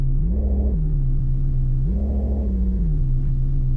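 In Mon Bazou, the Koenig's engine is blipped twice from a steady idle, each rev rising and falling smoothly in a deep exhaust rumble, with no voices.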